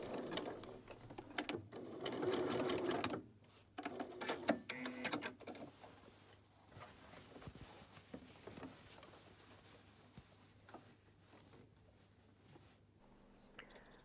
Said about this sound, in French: Je repasse au pied standard, je règle un zigzag court et très serré.